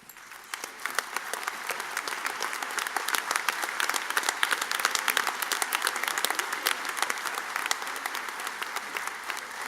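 Sustained, dense applause fills a hall as a high school graduation audience stands to honor the graduates, many hands clapping steadily and loudly for nearly ten seconds without a break.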